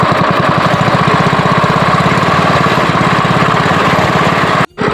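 A small petrol engine on a sugarcane crusher machine runs loud and steady at raised throttle, with a dense rapid chugging pulse throughout and a brief dropout near the end.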